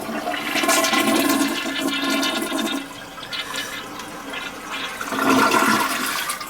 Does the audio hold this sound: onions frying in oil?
no